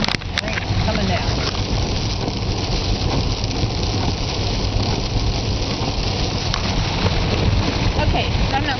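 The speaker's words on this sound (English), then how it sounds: "Boy, is it ever raining." Heavy rain pours down outdoors as a steady, dense wash of noise, with wind buffeting the microphone and a low rumble underneath, continuous and close throughout.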